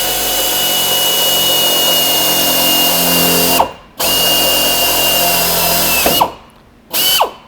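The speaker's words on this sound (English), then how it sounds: "drill through the door and through the steel door pillar" A power drill with a 13/64 bit bores through a door and its steel door pillar, whining loudly and close in three bursts that stop abruptly between runs.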